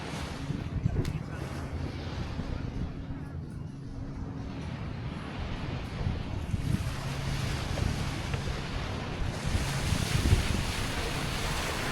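Ocean surf at the 15th Street Beach in Naples, Florida, a steady washing roar of waves with gusty wind buffeting the microphone, building slightly louder toward the end.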